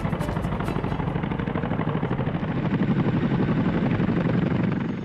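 An Indian Air Force Chinook twin-rotor heavy-lift helicopter drones loudly and steadily near Leh, Ladakh, its rotor chop forming a continuous rapid throb throughout.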